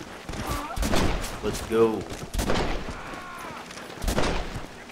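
Gunfire in the Western video game Red Dead Redemption during a saloon shootout with an outlaw gang, several sharp shots and bursts spread across the moment, mixed with game sound and a player talking over it.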